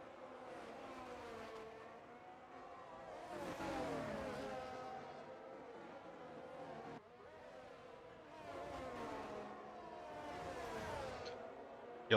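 Williams race car in a racing video game, engine revving high and dropping through corners in repeated surges, loud and steady, with gear shifts and no talking.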